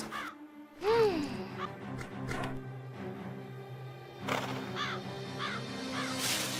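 A cartoon crow caws loudly a few times in a harsh, rising-falling call, with further caws trailing later over a steady low hum.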